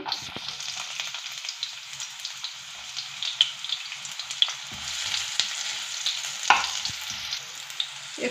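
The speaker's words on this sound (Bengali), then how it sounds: "তেল দিয়ে দিচ্ছি দু চামচ পেঁয়াজগুলো দিয়ে দিচ্ছি" Onions frying in about two spoons of oil in a wok for rice-flour chow mein, a steady close sizzle and crackle running throughout with occasional sharper pops and stirring clicks, no voices.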